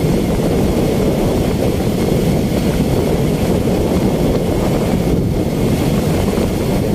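Constant, loud wind roar buffeting the microphone while riding a Yamaha R15 V3 motorcycle on a highway trip toward Chennai, a dense broadband rush with no pauses and no one talking.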